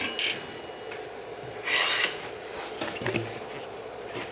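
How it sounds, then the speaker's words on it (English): An 8mm wrench working on a bicycle's back wheel before bleeding TRP brakes gives short rasping, ratcheting scrapes in a few separate bursts, close and moderately loud, with no talking. "The first thing we need to do is remove the back wheel. In this case, it's gonna take some force"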